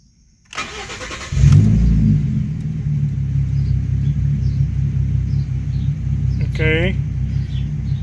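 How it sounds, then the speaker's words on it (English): A Ford Mustang V6 fitted with a 91 octane performance tune and a cold air intake starts for the first time: the starter cranks, then the engine catches with a loud surge and settles into a deep, steady, slightly uneven idle, with a brief chirp partway through. "Here's the very first start to the car after installing the 91 octane performance tune."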